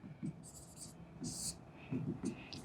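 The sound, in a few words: writing out a maths solution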